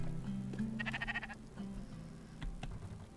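A video game sheep in Spiritfarer bleats in short wavering calls over a steady electronic hum, fairly faint, with a few soft clicks near the end.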